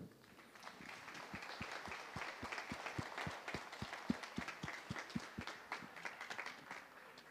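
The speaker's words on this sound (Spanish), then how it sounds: "les pido que demos un aplauso" An audience at a poetry tribute gathering applauds together, a steady wash of many hands clapping at moderate distance, with one person's claps standing out in a regular, evenly spaced beat throughout.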